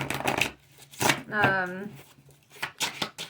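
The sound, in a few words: shuffling tarot cards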